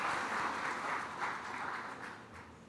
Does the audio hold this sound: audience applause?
yes